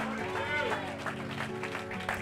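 A church congregation applauds during a sermon, with scattered claps rising under a loud preacher's voice.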